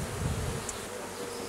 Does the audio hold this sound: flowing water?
no